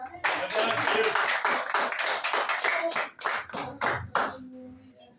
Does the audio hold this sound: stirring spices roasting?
no